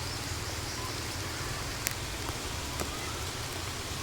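Steady rain falls over a flooded field, a broad constant hiss with a few sharper drop ticks, close and even throughout with no voices.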